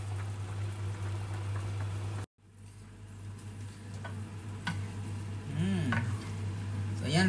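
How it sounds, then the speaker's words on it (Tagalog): Pork broth for pancit bubbling in a covered pot on the stove, a steady low simmering rumble with faint lid rattles and bubbling pops throughout, closer and busier toward the end after a brief cutout. "And then pakuluin natin. So yan, kumulo na."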